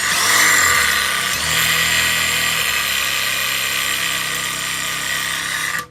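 A power drill runs continuously to pre-lube an engine's oil lines, a steady loud whine with some low mechanical hum that holds for several seconds before cutting off abruptly at the end.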